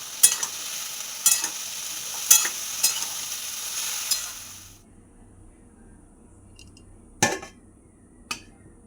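Leaves fry in a pan with salt while a spatula stirs them in rhythmic scraping strokes over a crackling sizzle, then the noise drops away, leaving a couple of isolated metallic clinks.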